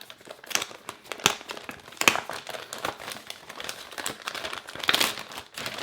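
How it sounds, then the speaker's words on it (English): A plastic Ziploc-style packaging bag with a tab is pulled open and handled, producing dense close crinkling and crackling with a few sharper rustles, steady throughout and without speech. "It's essentially a Ziploc bag with a tab at the top, so we'll just open this and take a look at inside."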